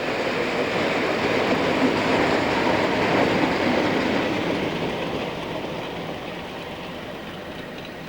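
A British Rail class 370 train on a rail tour rumbles past, a broad steady roar with faint wheel clatter that swells and then slowly fades as it moves away.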